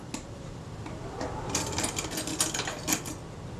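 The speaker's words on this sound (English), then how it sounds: "I'll put a couple of screws in the top cover." Small screws being driven into the top cover of a camera under repair, heard as close, quiet clicks and scratchy metallic ticks in an irregular cluster.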